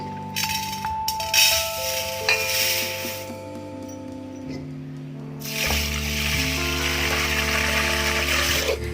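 Water is poured into a vessel holding a tumbler of basmati rice for soaking, with a steady close pour, light clinks of the container and a brief pause midway.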